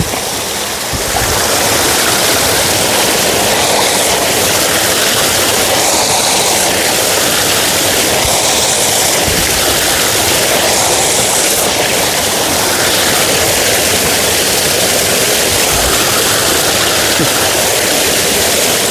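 A waterfall and flowing stream pour in a dense, loud, unbroken rush in the Dandakaranya forest hills, close by and steady throughout, with no voices heard.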